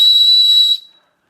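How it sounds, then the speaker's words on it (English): A small emergency whistle from an Ultimate Direction Ultra Vest 12L running vest gives one loud, piercing, shrill blast lasting under a second, then cuts off into silence. "we get the small emergency whistle that comes with most vests these days, but it might be small, but it does pack a punch"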